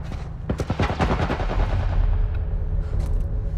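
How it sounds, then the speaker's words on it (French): A military turret machine gun firing in The Last of Us video game, rapid loud bursts of automatic gunfire, close and sustained, with echoing rumble between shots. "Un genre de tourelle militaire."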